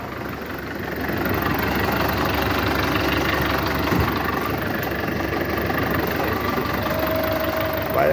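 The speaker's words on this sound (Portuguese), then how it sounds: "Acho que é um motorzinho Perk." A small Perkins diesel engine idles steadily, a continuous low rumbling drone with a faint knocking texture, fairly close and unchanging throughout.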